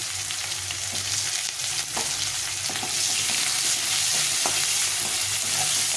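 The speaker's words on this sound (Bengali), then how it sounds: "তো প্রথমে আমি পেঁয়াজটাকে দিয়ে দেবো ধীরে ধীরে করে রেখেছি পেঁয়াজটাকে খুব একটা ভাজবো না" Onions sizzle steadily in hot oil in a pan for a shol fish curry, a continuous loud frying hiss with occasional stirring scrapes and no talking.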